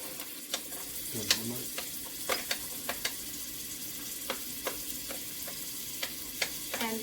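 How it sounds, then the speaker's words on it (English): Store-bought minced garlic and onion sauté in a pan for a Filipino lumpia filling, giving an even close sizzle broken by light, regular taps and scrapes of stirring. "And just saute it for a few minutes."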